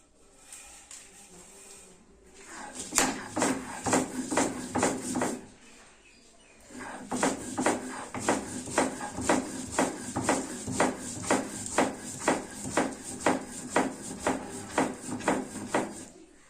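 Bottle gourd leaves, lightly boiled and salted, are ground into a paste with a little water: steady rhythmic scraping strokes, close and fairly loud, broken by a short pause before the strokes resume at a brisk even pace.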